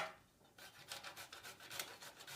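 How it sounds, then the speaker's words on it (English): Whole unpeeled ginger rubbed against a grater: a quick run of close, rhythmic rasping strokes after a brief quiet start. "I'm just going to grate the whole ginger and include the peel"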